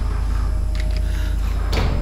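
Door noises in the horror game Neverending Nightmares, a couple of brief creaks and knocks over a loud, constant low rumble, with a sharper scrape near the end.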